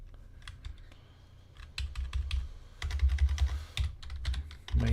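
Keys clatter on an Amiga 4000 computer keyboard in bursts of quick typing, starting sparse and soft and then growing denser and louder with close, sharp clicks.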